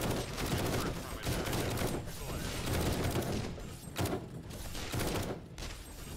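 Dense, continuous gunfire from the video game 7 Days to Die during a blood moon night, rapid overlapping shots and bursts loud and close throughout, with voices talking underneath.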